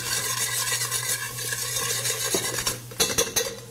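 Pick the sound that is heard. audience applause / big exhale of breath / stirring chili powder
stirring chili powder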